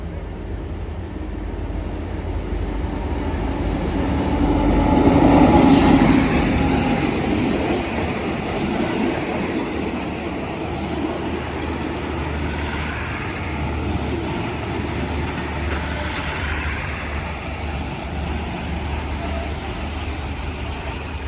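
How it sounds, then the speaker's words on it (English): A northbound SRT passenger train rolls through Lamae station in Chumphon, Thailand, its broad rumble and wheel noise swelling to a peak after about five seconds, then holding as a long steady roar. "And we caught a train here."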